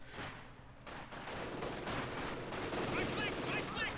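Distant machine-gun fire in a multiplayer war game, an MG suppressing an infantry squad from maximum range, heard as a steady rattle of bursts at moderate level under a busy battlefield background.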